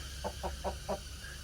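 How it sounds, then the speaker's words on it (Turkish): A feather-footed rooster gives four short, evenly spaced clucks over a low steady background hum, fairly close and moderate in volume. "paçalı horoz"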